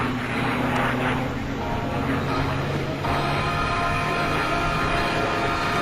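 P-51D Mustang piston-engine fighter making a flyby at the 2005 Millville Airshow, a loud continuous engine drone with a rough, rumbling tone, and an announcer talking over it.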